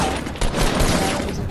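Rapid gunfire rings out in a battle royale shooter, a short, loud burst of shots cracking close together over the game's background noise.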